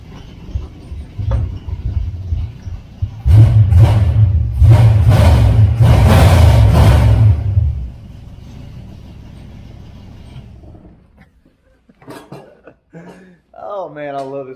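A car with busted mufflers revs hard several times up close, a loud raw blare of rapid bursts, then drops to a lower idle while people talk briefly toward the end.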